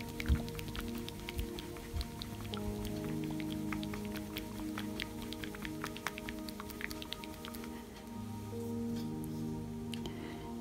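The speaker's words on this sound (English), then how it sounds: "If I shake the silver, there's still liquid in there." A small container of liquid silver metallic paint shaken steadily, giving a continuous run of quick wet sloshing clicks and rattles for about ten seconds, close and fairly loud over a faint steady tonal hum.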